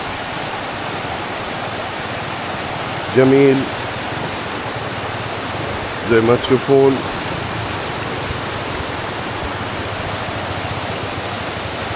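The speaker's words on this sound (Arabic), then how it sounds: "طبعا ما تسمع هنا الا صوت النهر" A river in the Philippines rushes in a steady, broadband wash that continues without a break, while someone speaks briefly over it twice.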